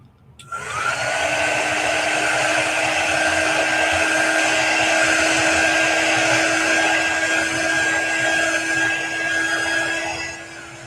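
A heat tool blows steadily over chalk paste on a silkscreen, a continuous close whooshing hum that starts abruptly and runs unbroken for about ten seconds before easing off, with no talking.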